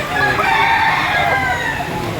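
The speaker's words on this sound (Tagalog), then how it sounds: "Gandang manok." A rooster crows at a livestock market in Padre Garcia, Batangas, a loud, close, drawn-out call lasting about two seconds amid busy crowd noise.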